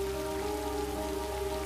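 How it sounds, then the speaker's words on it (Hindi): Heavy rain falls in a steady, dense wash with no pauses, loud and close, alone without any voices. "बारिश बहुत तेज हो रही है।"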